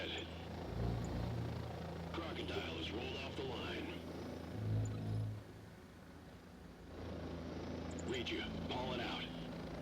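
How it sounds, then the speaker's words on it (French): Combat helicopters in the video game Crossfire: Legion, rotor thrum droning faintly in the background beneath someone talking in French. "Et là, on a nos hélicoptères de combat."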